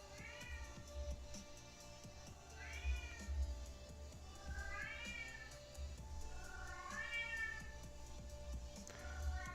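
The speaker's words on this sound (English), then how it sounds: "That cat got my ears ringing." A house cat meows repeatedly, about four drawn-out cries spaced a few seconds apart, moderately loud and slightly distant, over a low steady room hum while gouache painting goes on.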